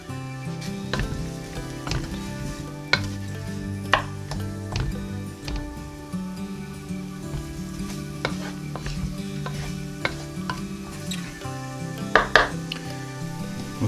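Butter melting and sizzling in a pan for pork sisig, a steady close crackle with scattered sharp ticks and light scrapes of a utensil against the pan, no voices.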